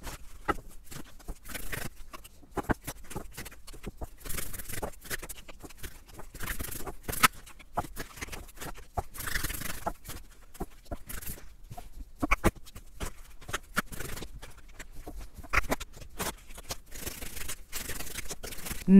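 Tarot cards being shuffled and drawn, a dense run of soft papery riffles, flicks and slaps that continues close and steady without speech.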